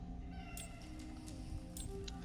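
A cat meows in the sci-fi horror video game Cronos: The New Dawn, giving a few brief, faint cries over a steady droning game ambience.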